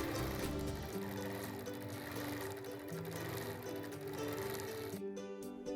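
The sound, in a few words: sewing machine quilting, sped-up footage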